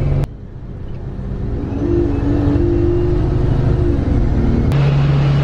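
Engine of a free city bus in Kuala Lumpur, a steady mid-pitched drone that builds and hums as it pulls away, loud and close from inside, with clicks at the start and end.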